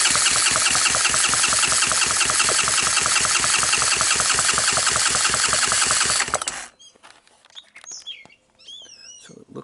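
A Honda TRX200SX ATV engine cranks over rapidly and rhythmically for about six seconds during a dry compression test, loud and close, then stops, leaving faint birdsong chirping in the quiet.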